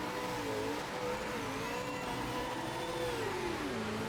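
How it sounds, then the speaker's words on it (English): Ford Falcon race car in Project Motor Racing spinning its wheels, engine revving hard and wavering in pitch, loud and continuous. "That's a lot of wheel spin."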